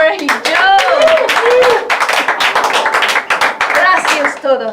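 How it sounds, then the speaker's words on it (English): Café customers clapping and cheering after a family mariachi set on Mother's Day, a close, dense burst of hand claps with whoops and shouted voices mixed in throughout. "Customers cheer as Gabrielle and her siblings end their set."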